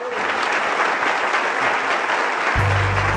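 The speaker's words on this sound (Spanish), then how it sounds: "Ese man merece un aplauso." A classroom group in a critical-reading workshop breaks into dense, steady applause for about two and a half seconds, close and loud, before it cuts off abruptly.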